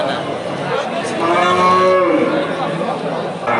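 A cow and calf at a livestock market low in a loud, drawn-out moo, close by, over steady market background noise.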